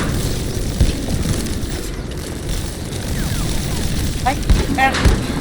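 Bursts of rapid gunfire and a few sharp shots crackle in the video game Split Fiction, against a constant noisy background, with voices talking over the action.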